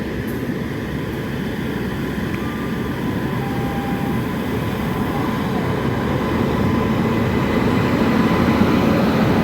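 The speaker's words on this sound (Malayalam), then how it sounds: "തിരുവനന്തപുരം അമൃത്സർ വരുന്നുണ്ട് കേട്ടോ" A Trivandrum–Amritsar Superfast Express pulls into a station platform, its steady low rumble filling the scene and growing slightly louder as it draws in, with no voices.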